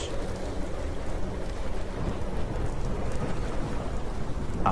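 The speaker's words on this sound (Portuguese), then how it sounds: "cercada de relâmpagos luminosos, gritos, trovoadas, um terremoto e uma forte chuva de pedras" A thunderstorm with steady heavy rain and low rolling thunder fills the whole stretch, a dense continuous wash of downpour with rumbles swelling underneath.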